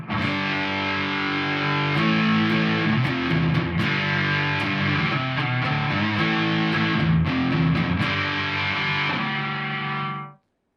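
A distorted electric guitar on an EMG neck pickup plays warm, saturated chords and short riffs at a steady loud level before stopping sharply.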